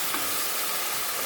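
Chopped tomatoes frying with onions in a pan for chicken biryani, a steady close sizzle with faint stirring throughout, no voices.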